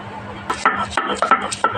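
Ginger and garlic are crushed on a stone grinding slab, giving a series of sharp, irregular knocks and taps of stone on stone up close, with short gaps between strikes.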